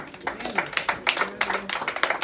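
A church congregation claps together during a sermon, a quick run of sharp, fairly loud hand claps in an uneven but steady rhythm.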